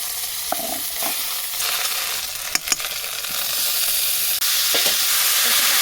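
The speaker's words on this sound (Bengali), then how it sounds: "ফোড়নের মধ্যে আদা বাটাটা দিয়ে দিলাম।" Ginger paste hitting hot oil already tempered with cumin, bay leaf and dried red chili, giving a loud, continuous close sizzle and hiss with a few sharp clinks from a utensil stirring the pan.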